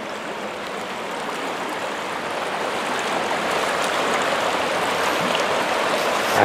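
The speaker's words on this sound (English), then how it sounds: "Now, seriously, we're right here by the creek." A creek in the Adirondacks flows steadily near a campsite, its broad hissing rush of water continuous and fairly loud throughout, growing slightly fuller toward the end, with no voices.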